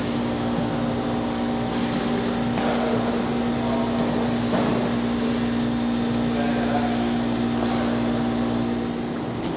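Steady drone inside a small aircraft cabin, a constant hum with a strong low tone and broadband engine and air noise running evenly throughout, close and enveloping.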